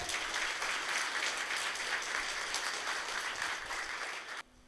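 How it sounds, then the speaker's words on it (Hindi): Sustained applause from an audience welcoming a guest speaker at a church inauguration gathering, dense and steady for over four seconds before cutting off abruptly near the end. "ताली बजाएंगे हम लोग।"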